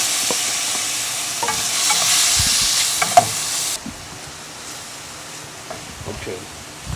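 Tiny shrimp and scallops hitting a hot pan for jambalaya, a loud bright sizzle with stirring clatter that drops abruptly to a quieter sizzle halfway through.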